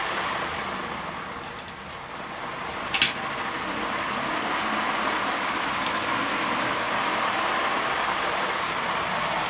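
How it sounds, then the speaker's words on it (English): A two-wheeled melty brain combat robot's motor spins up as throttle increases, a steady whirring drone holding fairly loud and even, with a brief sharp click near the middle. "when I power up here, if I spin up, increase throttle, it uses more of each rotation with the motor on"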